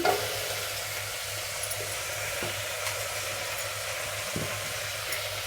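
Potato, cluster beans, ginger and tomato pieces fry in a pan for a millet khichdi, giving a steady close sizzle with occasional stirring scrapes and no voices.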